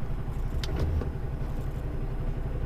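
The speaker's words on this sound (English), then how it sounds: "Come on, car, hurry up." A passing car on a road, a steady low engine and tyre rumble that stays fairly even throughout, with a few brief faint clicks partway through and no talking.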